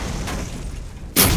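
A cannon fires in the video game Borderlands, a single heavy boom bursting in near the end over a continuous rumbling game background.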